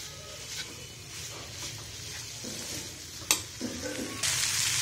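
Mutton kheema samosa filling sizzles and fries steadily in a pan, with soft stirring scrapes and a few louder clinks, the sizzle swelling brighter toward the end.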